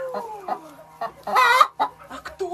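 A laying hen, a crested hen in a backyard flock, gives a run of close, loud clucks and squawky calls in short irregular bursts, one longer burst in the middle.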